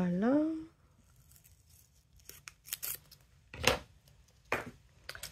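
Masking tape being pre-cut with scissors for a journal page, a few quiet snips and tearing sounds at close range after a brief voice at the start.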